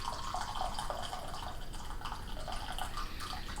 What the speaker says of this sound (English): I have to pour out my tea.